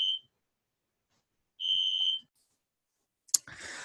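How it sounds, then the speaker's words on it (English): A fire alarm sounds in a lecture recording, two short loud electronic tones separated by a pause, followed by a sharp click and brief hiss, with no talk. "I think there's a fire alarm here."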